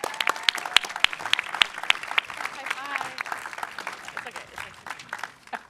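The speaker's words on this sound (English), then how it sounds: "Let's give them a round of applause." Audience applause for a student startup team at a school pitch competition, a dense patter of many hands clapping steadily for several seconds with some voices mixed in.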